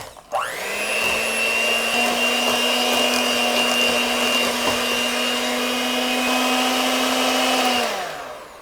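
An electric mixer whirs through cheesecake batter flavored with lemon zest and vanilla, spinning up quickly, holding a loud, steady high-pitched drone for about eight seconds, then winding down, with no voices.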